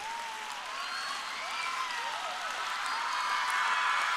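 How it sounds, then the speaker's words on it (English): Students at a school annual day rise for a standing ovation, clapping in a broad sustained roar that grows gradually louder, heard from a distance with faint whistling tones drifting over it. "Please stand up and then give a clap."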